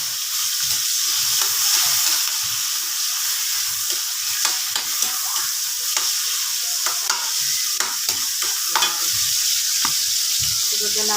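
Garlic, onion and tomato spit and hiss as they sauté in a pan for a mung bean dish, with a bright, steady sizzle close by and scattered stirring scrapes throughout.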